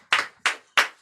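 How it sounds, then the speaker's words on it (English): Three sharp, evenly spaced hand claps ring out close and clear at an oratory competition, each one short and crisp with quiet between. "Please give more great hand clap"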